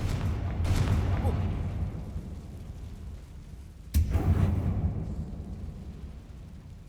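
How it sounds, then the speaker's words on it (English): A fire spell bursts out while burning through a cobweb in a catacomb in the game Hogwarts Legacy, heard as two loud whooshing, crackling blasts, the second striking sharply about halfway through over a low rumbling bed. "I need to burn this web first. Confringo!"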